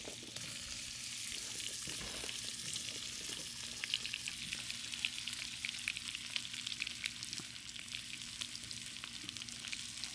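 Pork with ginger, garlic and onions fries in a stir-fry pan with a steady, even sizzle and crackle that runs the whole time, close and fairly loud, with no one talking.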